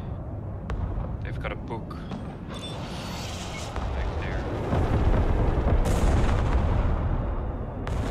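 Artillery fire booms in the war video game Broken Arrow: sharp early reports, then a deepening, sustained rumble of bombardment, with a voice speaking over it.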